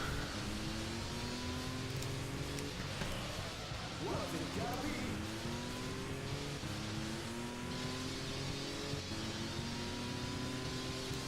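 A car drives a rainy track in the Auto Modellista racing video game, its engine note rising and falling through gear shifts under steady road and spray noise, loud and continuous.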